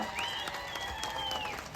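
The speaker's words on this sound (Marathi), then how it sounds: "ह्या पट्ट्या माणसासाठी सुद्धा जोरदार एकदा टाळ्या वाजवा" Audience applause for Rafiq Bhai at a public rally, a dense burst of clapping from a crowd that holds steady and fairly loud throughout.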